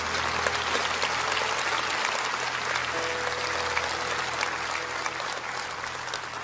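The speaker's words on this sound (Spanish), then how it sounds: "No dejen de darles ese aplauso" Audience applause at an evangelical church service, a dense, continuous clapping crowd that stays loud and even throughout.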